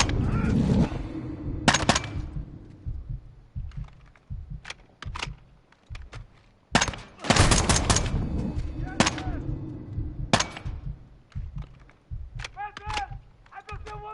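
Shotgun blasts in the video game Call of Duty: Modern Warfare II, several sharp loud bursts scattered among quieter clicks and clatter, with some talk between the shots.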